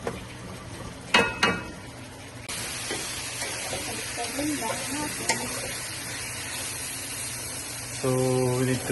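Chicken frying in butter in a pan, a steady sizzle running throughout with a few clanks of stirring and quiet talk.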